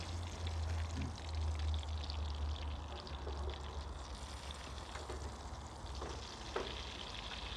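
Ribeye steak frying in a skillet on a small Camping Gaz cooker outdoors: a steady, close sizzle with soft crackles and a low burner hum, with no talk over it.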